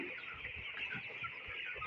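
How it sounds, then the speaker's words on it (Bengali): Very young chickens on a poultry farm cluck and peep continuously in a dense, busy chorus with no one talking. "একদম ছোটো মুরগির বাচ্চাগুলা"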